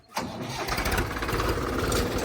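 A tractor engine cranks and catches, settling at once into a steady, rough diesel rumble close by, with no talk over it.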